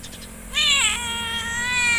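A cat gives a single drawn-out meow at close range, rising and then falling, with a faint hum underneath.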